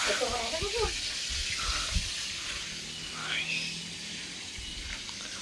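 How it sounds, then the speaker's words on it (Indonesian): Steady sizzling of rice crackers frying in hot oil, with a few clinks and brief stirring sounds, under a faint voice near the start. "Nah, ini kita goreng rese untuk makan sore."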